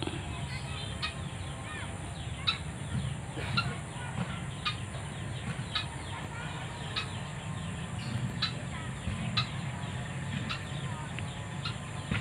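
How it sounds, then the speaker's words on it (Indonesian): A white-breasted waterhen calls unseen from about four metres away near its nest, a steady series of repeated clucking notes at a regular rhythm against a constant outdoor hiss of insects and ambient noise. "Burung ruak-ruak."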